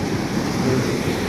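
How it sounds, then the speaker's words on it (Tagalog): Ocean waves wash steadily at night beside a fishing boat off Punta Nasugbu, a continuous rough surf roar with wind buffeting the microphone and no talk. "Malaki alon."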